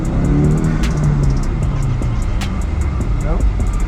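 A car revs and drones up close while doing donuts, engine note rising and sliding with rhythmic ticking, under talking voices.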